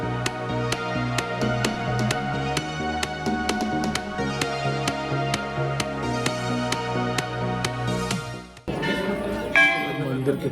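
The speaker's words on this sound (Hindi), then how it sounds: "चारों तरफ घंटियां" Metal temple bells at the Golu Devta shrine ring in a rapid, regular series of bright strikes, loud and close, before giving way to crowd noise and a clang near the end.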